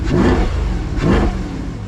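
A 2024 Corvette C8's engine runs in touring mode, two rising revs about a second apart, loud and close, with no voices.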